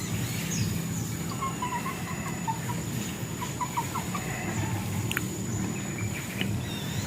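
Chickens cluck in short, scattered bursts on a small papaya farm, fairly faint and set against a steady bed of insect and outdoor background noise.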